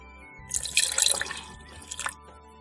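Rice wine vinegar poured into a sauce with soy sauce, a short trickling splash lasting about a second and a half, close by and fairly quiet, with no talking.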